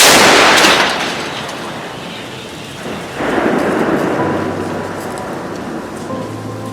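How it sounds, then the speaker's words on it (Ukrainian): A loud, booming artillery blast right at the start, followed by a long rumbling roll that fades and swells again, with no voices. "Гармата постріл!"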